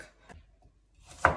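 Two quick knife chops on a cutting board, cutting asparagus, a faint one and then a louder, sharper one after a short pause.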